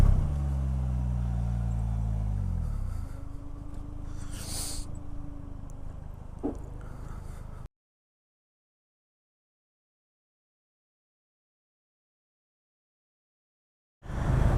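A Polaris Slingshot pulls away in first gear, its engine a loud, close low drone that rises in pitch for a few seconds then settles; the sound cuts to silence midway and returns briefly at the end.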